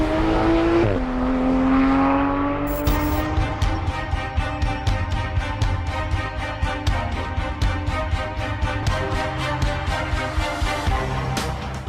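A Porsche 911 GT3 RS engine on a race circuit revs high, then drops and climbs through rapid upshifts in a repeating pulsing rhythm, loud and close throughout.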